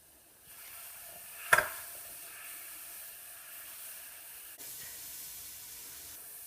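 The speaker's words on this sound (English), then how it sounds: "it's just explosively vaporizing without really staying long on the surface" Water hits a hot pan and vaporizes with a sharp sizzling burst, then settles into a soft, steady hiss of steam close up.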